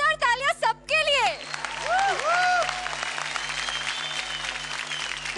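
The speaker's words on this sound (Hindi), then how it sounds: "जोरदार तालियां सबके लिए" Studio audience applauding dancers on a televised Indian dance competition, a dense burst of clapping and crowd noise after a brief stretch of speech, with music-like tonal sounds sweeping over the sustained clapping.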